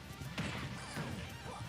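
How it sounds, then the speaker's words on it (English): A forward smash strikes a raised shield in a Super Smash Bros. Ultimate crews match, a sharp crashing impact with a swishing tail amid dense, loud game and crowd noise. "those forward smashes getting shielded go so low on the shield"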